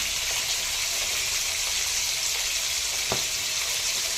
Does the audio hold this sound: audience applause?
no